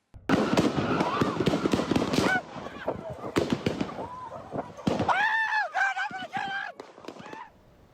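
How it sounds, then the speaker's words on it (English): A block party in Memphis erupts in a barrage of gunfire in news footage, rapid sharp cracks echoing in bursts over several seconds, mixed with panicked shouts and screams from a crowd. "a barrage of gunfire echoes around them"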